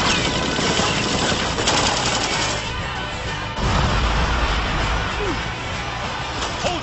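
Gunfire in an anime firefight, a dense and loud continuous clatter of shots and crashing impacts, with voices mixed in.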